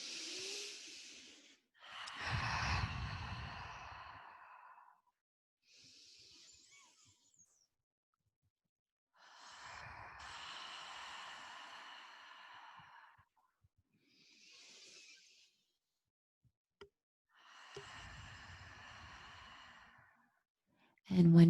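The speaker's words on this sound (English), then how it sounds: "let's just take 3 deep breaths in through the nose and out through the mouth" Slow, deep breaths drawn in through the nose and let out through the mouth during a guided breathwork session, about three soft airy cycles separated by quiet pauses, close and calm.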